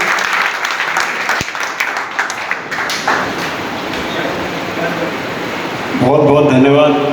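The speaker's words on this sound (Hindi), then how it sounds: "एक बार जोरदार तालियों से स्वागत कीजिए" A crowd claps steadily throughout, a broad wash of applause that swells slightly near the end, with voices mixed in.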